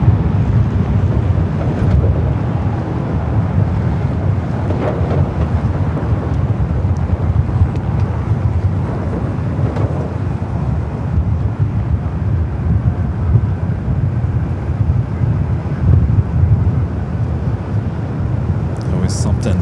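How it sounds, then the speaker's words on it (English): A Boeing 777-300ER arriving at LAX from Taipei gives a steady, broad low roar that persists throughout, mixed with gusty wind buffeting and occasional voices. "Flight 12, the 777-300ER, coming up from Taipei."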